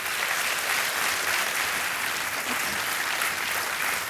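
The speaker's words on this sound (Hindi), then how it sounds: "तालियां बजती रहें इनके लिए" Studio audience applause on the KBC quiz show for a contestant who has just won a prize, a steady dense wash of clapping that holds evenly throughout with no talk over it.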